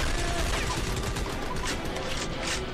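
A chain gun in the video game Army of Two spinning up and firing, a dense, continuous roar of rapid gunfire filling the whole moment at steady loudness.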